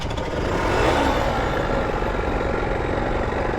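A steady, loud motorcycle engine rumble with a failing crankshaft holds close by with a deep, throbbing low end, running without a break.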